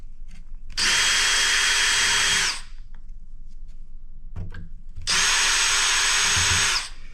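A power drill whirs in two sustained bursts of roughly two seconds each, separated by a pause, while unscrewing hex screws from a server chassis being scrapped for electronics; the motor is loud and close.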